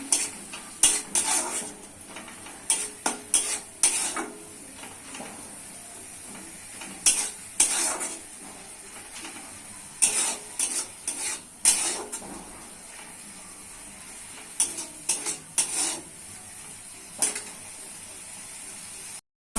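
Spice paste with chopped coriander leaves is stir-fried for papda fish curry, a steady sizzle under repeated bursts of a metal spatula scraping and clattering against the pan, with pauses between rounds of stirring.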